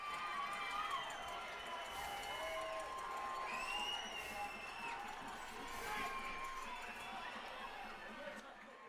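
A baseball stadium crowd cheering and whooping steadily at a distance, with scattered shouts and high whistles over a continuous roar.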